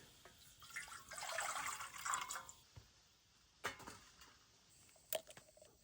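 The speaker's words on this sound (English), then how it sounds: "I'm gonna put on some water for coffee" Water poured into a pot or kettle for coffee at an autumn Adirondacks campsite, a quiet broadband splashing rush over the first two seconds followed by scattered faint drips and light clinks.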